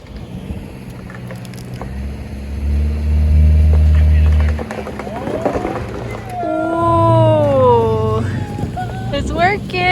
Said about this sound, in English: Just a slow, slight gas, just to get you up on the traction pad